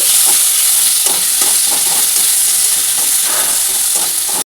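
Chopped onion, tomato and green chili sizzle steadily in a hot pan, a close continuous frying hiss with soft stirring scrapes.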